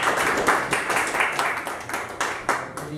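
An audience at a community history lecture claps for the speaker, steady moderately loud applause with distinct individual hand claps repeating throughout, no voices.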